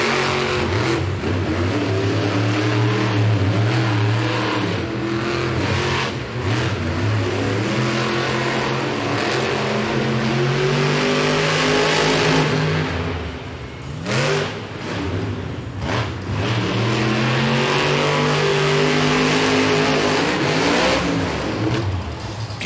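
Monster trucks at a Monster Jam arena event in Gold Coast, Australia, revving and racing head to head, their loud engines roaring and surging continuously with repeated rising and falling revs and no break.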